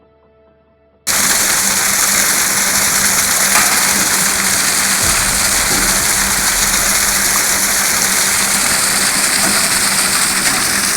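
Farm machine driven by flowing water, a loud continuous rushing and gushing of water that starts abruptly after a second of near silence and holds steady throughout.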